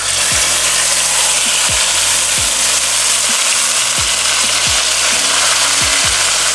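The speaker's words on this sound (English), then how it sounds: "Just as it's starting to smoke, you want to go ahead and add your pork." Marinated pork belly hitting smoking caramel in a hot pan for Vietnamese braised pork, a loud steady broadband sizzle filling the whole stretch, with repeated low knocks and scrapes underneath.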